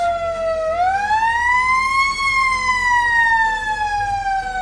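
A brand-new blue fire department engine sounds its siren during a parade, a loud wailing tone rising then slowly falling, steady and close, with no talking.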